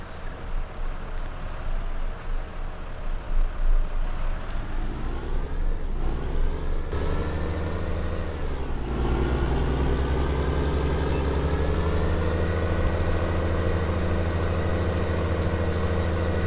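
A tractor engine in Farming Simulator 19 drones loudly and steadily for the whole stretch, its pitch rising and shifting as the machine climbs a hill, with no voices over it.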